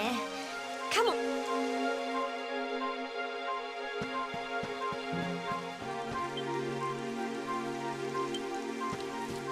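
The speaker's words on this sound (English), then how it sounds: "It would have to go and start raining, wouldn't it?" Rain falls in the video game Dragon Quest XI: Echoes of an Elusive Age, a soft continuous patter under game music with brief sharp sounds and someone talking over it.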